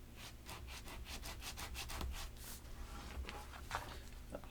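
Folded paper for a junk journal being burnished, a faint, close, repeated rubbing and scraping in quick back-and-forth strokes, with no voices.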